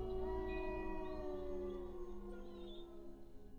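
Wolves howl in the distance with long, drawn-out, overlapping cries that rise and slowly glide, faint and mournful with no talking.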